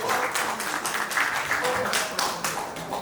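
Audience applause at a Bollywood song launch event, a steady wash of clapping that stays fairly constant throughout, with a crowd present and some voices mixed in.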